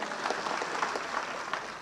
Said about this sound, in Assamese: সকলোকে মই হাত চাপৰি এটা বজাই দিছো সকলোৰে কাৰণে